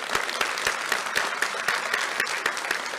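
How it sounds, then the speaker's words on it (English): A small group of attendees at a fraternity district plenary session claps steadily for Dr. Reed of Mississippi, with distinct individual claps sounding fairly close and evenly paced. "Give him a round of applause."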